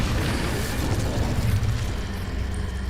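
The Incendio fire spell is cast in Hogwarts Legacy, giving a sustained roaring, crackling burst of flame that fills the clip, loud and close with no talk.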